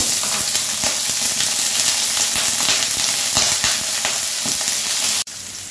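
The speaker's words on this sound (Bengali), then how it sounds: "এবার আলুটা একটু হালকা ভেজে নেব।" Potatoes sizzle loudly in hot mustard oil, a steady crackling fry with occasional sharp pops, cutting off abruptly at the end.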